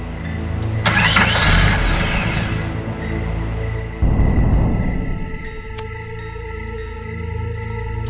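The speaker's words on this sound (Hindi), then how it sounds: "बार बार गाड़ी स्टार्ट करने की कोशिश करता रहा, लेकिन किसी भी हाल में स्टार्ट नहीं हो रही थी।" A car engine cranks hard in two separate attempts, each a loud whirring burst of the starter grinding, followed by a low rumbling hum with no voices.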